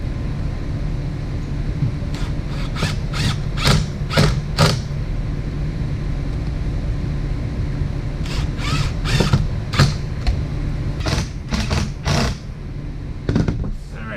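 Screws are driven into a MaxxFan Deluxe roof vent, giving two bursts of creaking, ratcheting mechanical pulses over a low steady hum, close and fairly loud.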